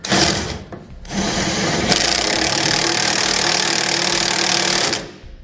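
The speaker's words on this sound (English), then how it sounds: "Now we'll tighten down our side plates to the frame. We're going to start at the rear bolts" A power tool tightens the side plate bolts of a TorkLift SuperHitch trailer hitch receiver to a truck frame: a short loud whir, a brief pause, then a sustained steady whine for about three seconds that cuts off abruptly.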